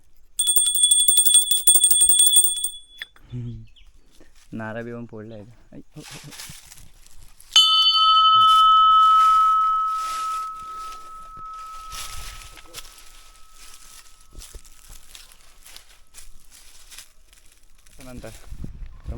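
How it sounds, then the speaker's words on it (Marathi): A bright metallic temple bell at a village palanquin shrine rings out with a long sustained tone that slowly fades, between stretches of quieter outdoor sound and someone speaking. "त्या ठिकाणी घंटी वाजवतो"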